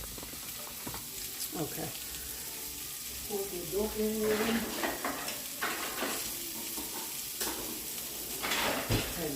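Vegetables sizzle steadily in a hot pan while metal tongs stir and toss them, producing scraping clinks and bursts of crackle; a voice speaks briefly, and faint water sounds linger in the background.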